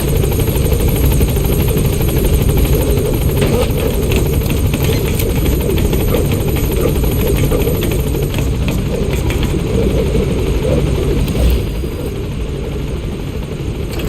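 Helicopter in the video game Metal Gear Solid V: The Phantom Pain, a loud, steady rotor thump and engine whine droning continuously, slightly easing near the end, with no talk.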